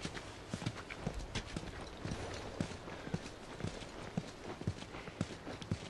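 Horse hooves clip-clop at a steady walking rhythm in The Last of Us, with regular hoof strikes close by over faint ambient background.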